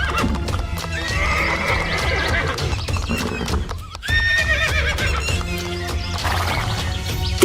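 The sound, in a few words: horses, clip-clop and neighing, cartoon effect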